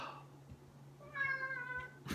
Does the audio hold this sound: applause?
no